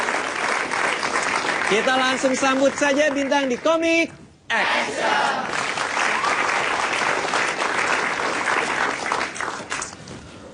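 A stand-up comedy show audience breaks into loud, sustained applause to welcome comedian Bintang, filling the room for several seconds after the host's spoken introduction.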